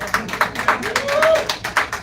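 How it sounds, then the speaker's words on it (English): A single person claps slowly and deliberately, about eight evenly spaced sharp claps in a township board meeting room, while a voice speaks briefly underneath. "Ooh, I can clap on that."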